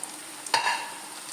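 Banana pieces frying in a pan of hot oil give a steady soft sizzle, with one brief louder crackle as a piece is turned, then the even sizzle carries on.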